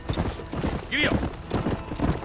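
Horse hooves clip-clopping at a steady trot in a cowboy video game, a rhythmic series of hoofbeats heard under a voice.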